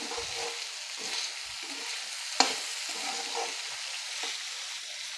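A vegetable dish is stirred in a pan after salt goes in, with soft scraping strokes and a gentle sizzle, plus one sharp clink of the spoon near the middle.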